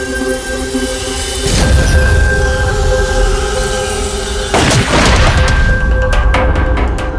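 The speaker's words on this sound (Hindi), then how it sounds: "तुम यहीं से 7-8 फीट की दूरी से इसे गोली मारो" Two heavy, loud booming bangs of gunshots fired from about seven to eight feet away, each ringing out over a steady loud background drone, the second coming a few seconds after the first.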